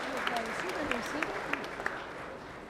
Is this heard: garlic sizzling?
no